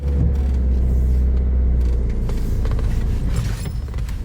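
A car performs a hill start in first gear with the handbrake, its engine rumbling low and loud and steady throughout, close by, with some mechanical creaks and no talk.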